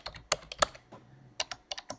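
Keys clatter on a computer keyboard while a web address is entered into Google Chrome, in short bursts of close, crisp clicks with brief pauses between them and no voices.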